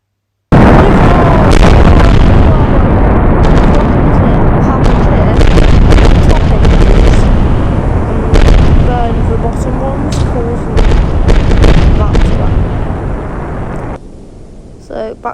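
Rocket engine ignition and explosion in the Spaceflight Simulator game: a sudden loud roaring blast followed by crackling bursts and rumble that fades near the end, with a voice talking over it.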